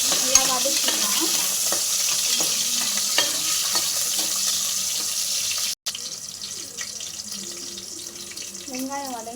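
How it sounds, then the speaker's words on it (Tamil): Garlic and onion sauté in a pan with a continuous sizzle and frying hiss. Occasional stirring scrapes and clinks sound under a faint voice. "கொஞ்சம் பூண்டு தேவையான அளவு, வெங்காயம், நல்லா வதக்கிக்கலாம்."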